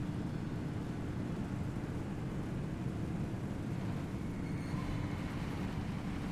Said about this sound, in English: Thankfully nice and fast even with this engine.